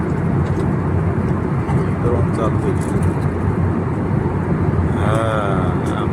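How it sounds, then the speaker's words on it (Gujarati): Inside the cabin of a passenger plane landing on a flight from Bangalore to Ahmedabad, a loud, constant roar fills the space. People talk over the noise. "પ્લેન રાગ રાગીને જ ઉતરે છે"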